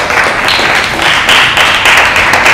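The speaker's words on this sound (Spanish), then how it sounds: "otro aplauso ahí para Ángela" An audience gives Ángela a round of applause: loud, dense clapping from a crowd, heard close and continuous for a couple of seconds.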